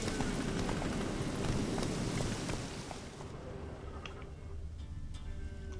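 Horse hooves clip-clopping in The Witcher 3 video game, a steady run of hoofbeats amid rain and ambient noise, louder in the first half and then fading somewhat.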